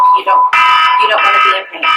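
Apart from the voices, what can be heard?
alarm going off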